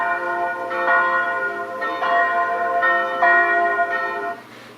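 A church bell sound effect in the Soundtrap music app tolls in a steady rhythm, with about five ringing strikes that overlap into a sustained, resonant wash. No voices are heard.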